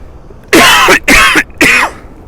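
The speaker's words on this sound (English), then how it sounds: "Sorry about the cough" Three loud, harsh coughs in quick succession, very close.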